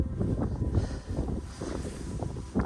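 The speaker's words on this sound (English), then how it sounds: "It's not supposed to be windy." Wind gusts buffet a microphone at a wild camp high on the fells around Hard Knott, a steady low rumble that swells and eases over a couple of seconds, loud and close with no talk.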